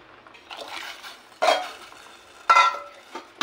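Sago and sugar are stirred into boiling water in a pot, soft swishing interrupted by two louder scraping knocks of a spoon against the pot.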